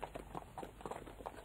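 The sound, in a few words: horse hooves clip-clopping as a rider approaches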